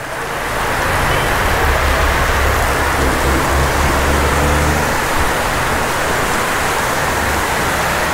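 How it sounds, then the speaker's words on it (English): A heavy rain downpour roars as a dense, steady wash of noise that swells in over the first second, then holds loud and unbroken, with no voices. "Oh my gosh, that was a crazy downpour."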